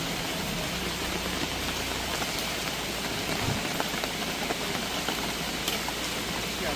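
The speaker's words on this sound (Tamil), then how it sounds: "மழை வந்து குழப்பி அடிச்சு விடுது" Heavy rain pours steadily during outdoor biryani cooking, a dense, constant hiss of drops striking surfaces that fills the whole stretch without letup, near and unbroken, with no voices.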